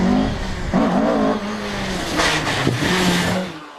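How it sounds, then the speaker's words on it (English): A Ford RS 1800 Escort rally car blasts past on a stage of the Ulster Rally, its engine loud and revving hard through gear changes for several seconds before fading. "young Manx driver Conor Corkle leads Category 3 by over a minute with his RS 1800 Escort"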